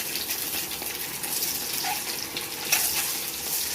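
An egg frying in oil in a pan on an induction cooktop, a soft steady sizzle with a brief metallic clink as it is turned, no talking.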